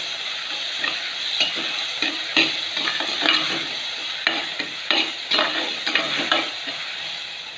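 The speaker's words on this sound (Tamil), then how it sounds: "இப்போ தக்காளி சேர்த்து தக்காளி நல்லா மசிறதுக்கு கொஞ்சோண்டு உப்பு போட்டு நல்லா வதக்கணும்" Tomatoes with salt sauté in a clay pot for fish curry, giving a loud, continuous sizzle with repeated scraping stirs and soft clacks at an uneven rhythm.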